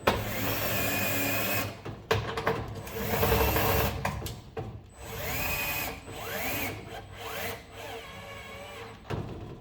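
A power tool whirs in bursts while a Lennox SL280UH135V60D furnace blower motor is installed, running in uneven pulses of motor drone and grinding with short pauses between, close and moderately loud.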